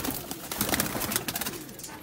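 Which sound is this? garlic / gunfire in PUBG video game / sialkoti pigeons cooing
sialkoti pigeons cooing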